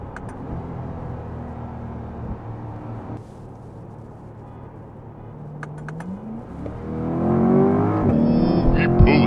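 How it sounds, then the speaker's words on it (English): A Corvette C8 Z51 and a turbocharged BMW M3 accelerate hard side by side in a street race, a steady engine drone and road rumble building to a louder rising rev near the end. "that little bit of turbo lag on the M3 gives the C8 some time to pull ahead"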